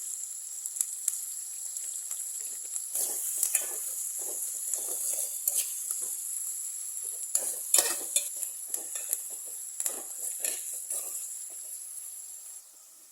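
Curry leaves sauté with salt and tomato in a pan for eggplant sambar, giving a soft steady sizzle with intermittent scraping stirs and crackles, moderately quiet and without talk.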